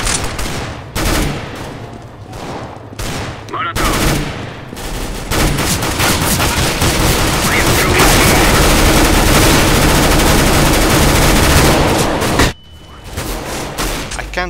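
Decoy grenade from Counter-Strike: Global Offensive mimicking gunfire, a loud sustained barrage of rapid automatic shots after a few separate bursts, then a sudden cutoff with scattered shots trailing behind.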